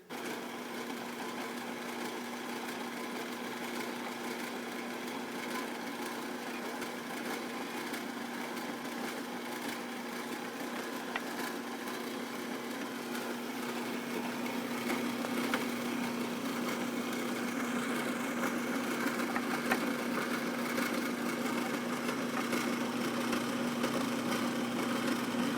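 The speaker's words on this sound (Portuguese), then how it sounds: "basta eu substituir a broca pelo escariador, e aí sem mexer em nenhum ajuste, eu posso fazer o escariado desses 60 furos" A drill fitted with a countersink bit works through 60 holes in a tool panel, a steady mid-pitched motor whir with a constant tone that runs on unbroken and grows slightly louder partway through.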